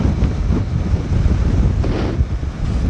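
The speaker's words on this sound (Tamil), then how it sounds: "காற்று பயங்கரமாக அடிக்கு, எப்போ தள்ளுது, என் வண்டியோட அடி ஒரு சைடாக தள்ளுது" Strong monsoon wind blasts against a motorbike rider on a road trip near Mekkarai and Adavinainar Dam, a loud, constant low roar of buffeting across the microphone.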